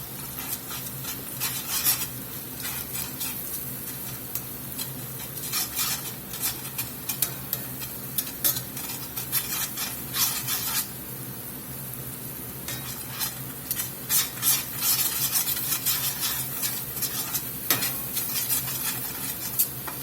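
Flour being stirred into two tablespoons of melted butter in a pan for beef stroganoff, giving a steady scraping and clinking stir with light sizzle throughout, close and fairly loud.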